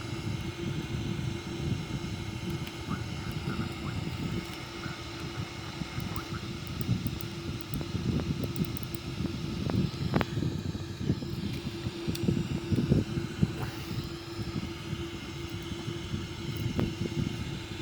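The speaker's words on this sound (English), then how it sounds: "As you can see, we have the APU running now." A Boeing 787 auxiliary power unit runs steadily, a continuous droning hum with a low rumble and a faint high whine, holding even and moderately loud throughout with no talk.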